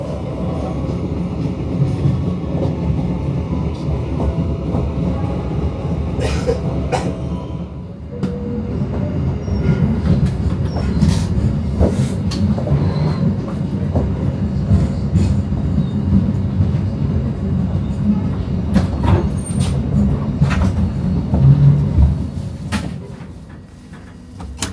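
Commuter train pulling into Jatinegara station at night: a loud, steady rumble of wheels and carriage, with brief rattles and a soft squeal, easing off near the end as it slows.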